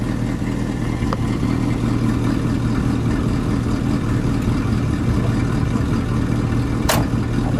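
A 1961 Buick LeSabre convertible idles steadily through its single exhaust, a low continuous rumble with a faint clatter running through the whole stretch, no voices over it.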